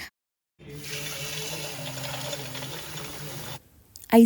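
Water runs steadily from a tap into a basin for an ice-cube face dip, a continuous gushing stream that starts after a short silence, lasts about three seconds, then stops abruptly.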